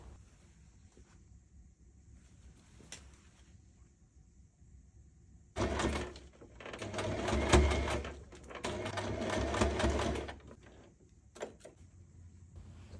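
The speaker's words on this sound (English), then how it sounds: "sew it with your sewing machine" A sewing machine hums through two bursts of stitching, a short run then a longer one, against a quiet room with a few small clicks.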